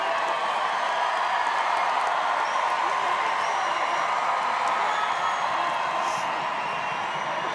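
An Irish crowd at a women's rugby match between Ireland and the USA cheers and applauds steadily as a player waves goodbye, a distant sustained roar with a commentator talking over it.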